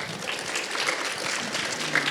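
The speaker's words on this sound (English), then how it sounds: "With the applause." An audience at a speaker series claps in a brief, even burst of applause at moderate volume that stays steady throughout.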